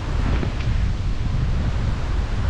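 Strong wind blows across Los Rayos beach in Tagum City, a loud, continuous rushing roar buffeting the microphone, with possible surf blended underneath.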